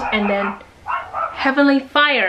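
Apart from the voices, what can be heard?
dog barking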